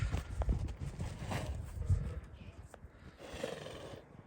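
A Romanian filly runs outdoors, her hooves giving a soft, uneven thudding rhythm mixed with rustling and a breathy snort, moderately close but fairly quiet.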